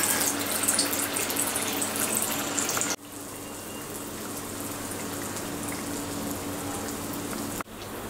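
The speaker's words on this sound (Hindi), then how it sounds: "अब इसे तेल गर्म होने के बाद में ऐसे गिरा देंगे।" Spoonfuls of dhuska batter drop into hot oil in a kadhai and fry with a steady, close hiss and sizzle, which steps down to a quieter, even bubbling partway through.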